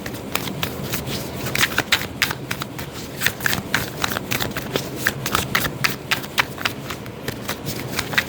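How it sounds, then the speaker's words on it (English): Continuous riffling of a deck of cards being shuffled up close, with quick rhythmic snaps and a crackly, papery texture throughout. "One more shuffle."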